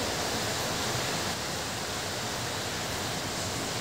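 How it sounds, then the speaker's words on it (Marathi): Water poured from a half glass into a strained pani puri spice paste, a steady broadband gush that stays even and close for the whole few seconds, with no talking. "नंतर आपण यामध्ये आता परत अर्धा ग्लास पाणी घालून घेतोय"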